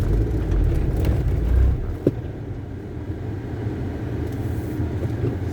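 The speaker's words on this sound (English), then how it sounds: "Got something dragging underneath my car." Steady low rumble of a moving car with an object dragging underneath, scraping and rattling, plus a brief sharp clunk partway through; no talking.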